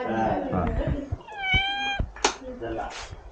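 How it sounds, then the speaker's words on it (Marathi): A cat gives one clear, drawn-out meow midway, close by, while people talk around it at a rural Konkan farm. "मांजर"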